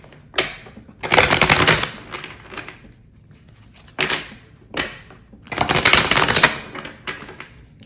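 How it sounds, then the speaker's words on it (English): A Todd Alcott Pulp Tarot deck shuffled hard, giving several sharp riffling bursts of card snapping and flapping with short pauses between them, close and fairly loud. "Do a good hard shuffle, shall we?"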